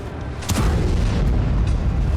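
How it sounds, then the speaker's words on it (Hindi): A glide bomb dropped from a Sukhoi Su-34 fighter explodes with a loud, heavy boom, then a sustained deep roar of rumbling blast noise that carries on to the end. "रूस की एरोस्पेस फोर्स और वायुसेना ने कुर्स्क में मौजूद यूक्रेन की सेना पर सुखोई 34 फाइटर से एक ग्लाइड बम गिराकर कहर बरपाना शुरू कर दिया"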